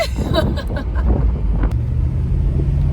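A 1986 Mercedes-Benz 560SL R107 pulls away, its low engine rumble steady and close beneath wind buffeting on the microphone, with scattered rattles and clicks early on.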